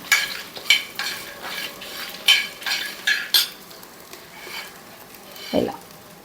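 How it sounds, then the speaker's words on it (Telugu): Dry coconut and spices are stirred and fried in a pan for a bhindi fry spice powder, giving a soft sizzle broken by repeated scraping strokes of a utensil against the pan and one clink near the end. "అవన్నీ వేగిన తర్వాత ఎండు కొబ్బరి లాస్ట్లో వేసేసి ఇలా చూడండి ఇలా ఈ విధంగా వేగితే సరిపోతుంది"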